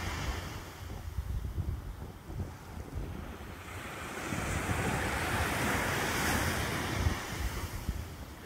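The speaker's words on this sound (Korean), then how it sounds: "오늘따라 이 파도 소리가" Ocean waves crashing on the shore near a lighthouse at dawn, a continuous surging roar that swells louder midway, mixed with gusty wind buffeting the microphone.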